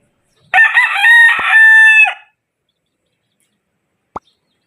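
A rooster crows close and loud in one long strained call of about two seconds, followed by silence and a single sharp short cluck from a chicken.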